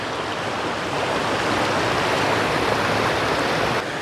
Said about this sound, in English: Man, this waterfall is so loud.